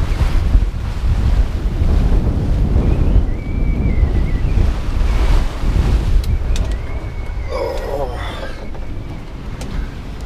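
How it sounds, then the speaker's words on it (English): Head waves driven by a headwind slam against a boat's bow on the North Sea in winter, a loud rushing roar of water and gusting wind buffeting the microphone, with a voice speaking briefly. "the bow is going under on every wave due to the headwinds and head waves against the bow"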